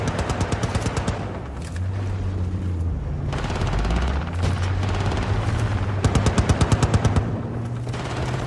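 Rapid bursts of automatic gunfire in Battlefield Bad Company 2, with repeated volleys and booming shots near a rumbling tank, loud and continuous across the stretch.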